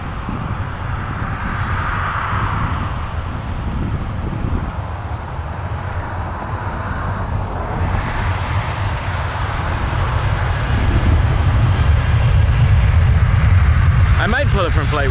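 A Swoop airliner taxiing past at Toronto Pearson airport, its steady jet engine rumble swelling louder toward the end, with wind and broadband roar throughout.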